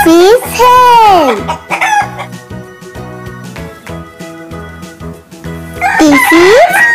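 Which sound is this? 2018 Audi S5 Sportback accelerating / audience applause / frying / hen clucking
hen clucking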